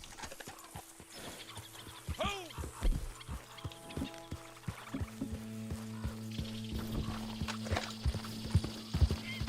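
Horse hooves clip-clop in a steady trotting rhythm in a video game, with a brief whinny and music tones layered underneath, moderately loud and close throughout.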